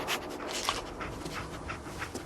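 A dog in the Fallout 4 video game pants in quick, rhythmic breaths, close and fairly soft, for a couple of seconds with no talking.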